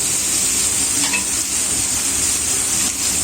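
Prawns frying in hot oil in a pan, giving a loud, dense, continuous sizzle with a brief stirring scrape partway through, close up and alone.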